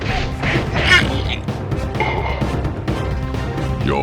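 Heavy booming chop impacts in a Sly Cooper boss battle on PS5, several loud crashing thwacks over game music, with a character's voice calling out between hits.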